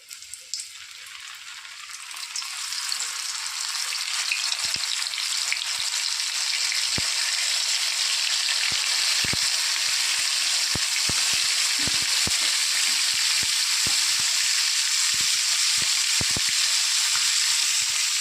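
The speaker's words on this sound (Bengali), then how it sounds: "তেল ভালো মতো গরম করে নিয়েছি এবার এক এক করে মাছগুলো ভেজে নেব" Bombay duck (lote fish) frying in hot oil, a steady close sizzle that builds over the first few seconds and then holds loud and even, with occasional sharper pops and crackles.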